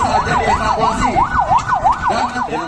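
An ambulance siren wails in a fast, steady up-and-down sweep, loud and close, over a rumbling background of traffic or engine noise, linked to workers injured when a porch roof collapsed at the Brebes regency office.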